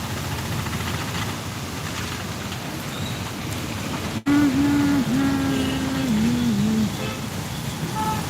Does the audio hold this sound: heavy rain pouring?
yes